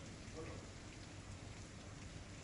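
Heavy monsoon downpour at the start of the rainy season in a Kutch village, a dense, constant hiss of rain drumming on surfaces that holds steady throughout without any clear voices.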